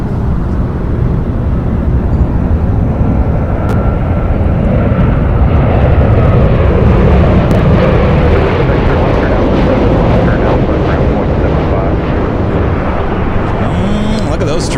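A JetBlue airliner on its takeoff roll from runway 25 right at LAX, a loud sustained jet engine roar with a broad rumbling wash that holds steady throughout, with radio chatter and commentary.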